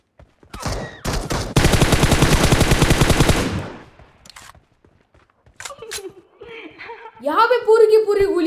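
A long, rapid burst of automatic gunfire in BGMI rattles loudly, followed by scattered shots and clicks, then a voice laughing near the end.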